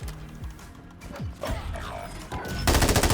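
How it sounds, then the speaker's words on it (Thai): Gunfire in Warzone, a few scattered close shots followed by a loud, sustained burst of automatic fire at the end, with game effects and faint talk underneath. "ผมยิงล้มว่ะเพื่อน"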